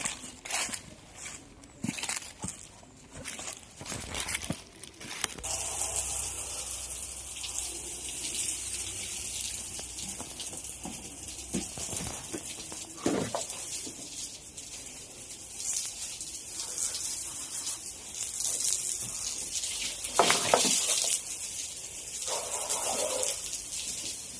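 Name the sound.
water poured to wash a cow shed floor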